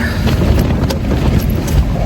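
Strong gusting wind buffeting a microphone at a hilltop campsite in the early morning, a steady loud rumbling roar with no talking.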